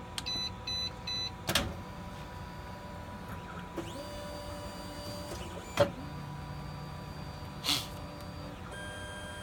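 An INKREDIBLE bioprinter homing its axes, with a low motor hum, several short electronic tones and a few louder mechanical clunks as the stages move, all fairly quiet.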